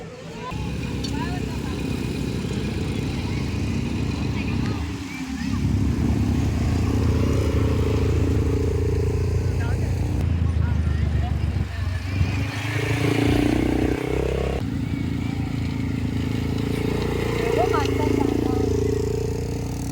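Motorcycle ride on the road near Ganpatipule in Ratnagiri, a steady engine drone with wind rumble lasting throughout, while people talk over it.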